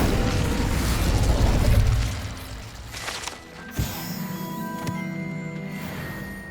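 Fire spell Incendio cast in Hogwarts Legacy: a loud roaring burst of flame that fades after about two seconds, followed by a sharp pop and clattering mechanical impacts.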